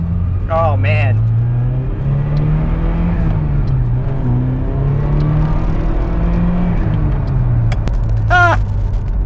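A repaired Ferrari 308 engine runs at a steady low idle, loud and close, with a slight rise and fall in pitch. Brief bird chirps come in near the start and the end.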